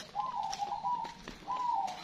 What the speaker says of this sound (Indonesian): Lalu itu perkutut pada bunyi semua ini